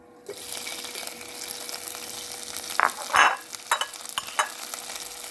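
Chilies sizzle and hiss steadily in a hot pan as they are stir-fried, with a few louder scraping bursts near the end.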